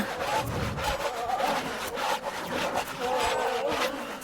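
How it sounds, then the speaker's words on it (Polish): A saw grinds continuously through The Path horror video game, a harsh, rasping, steady sawing at close range with loud rhythmic strokes filling the whole stretch. "Boli mnie ten dźwięk piły w sumie bardziej niż ten kobiecy głos"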